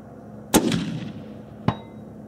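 A rifle fires at a long-range target: one sharp, loud report with a rolling decay, then about a second later a faint, distant ring as the round strikes steel.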